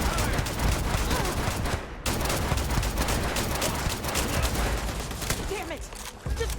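Sci-fi gunfire in Starfield pours out in a loud, continuous fusillade of rapid shots close by, breaking off briefly near the middle before resuming, with voices mixed in underneath.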